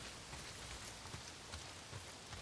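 Steady heavy rain pours in the video game Days Gone, a dense, even hiss of drops with no breaks, heard alone at low volume.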